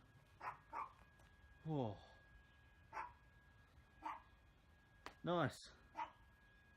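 A dog barks in several sharp bursts, with a couple of louder, drawn-out barks, in a home garage setting where someone is installing a lip and side skirts on a Toyota 86; someone briefly speaks between the barks.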